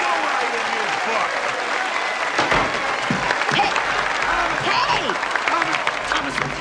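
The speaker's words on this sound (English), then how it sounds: "Give him a big round of applause!" Steady crowd applause fills a political gathering, loud and continuous, with shouting voices and a few sharper sounds breaking through the clapping midway.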